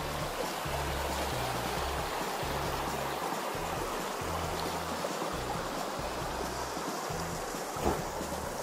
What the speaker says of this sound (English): I can hear the water, and it's all defrosted